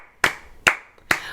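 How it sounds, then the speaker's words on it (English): Three sharp, evenly spaced hand claps ring out close and clear, keeping a rhythmic beat for a song in a music room. "Clap, clap, clap, clap."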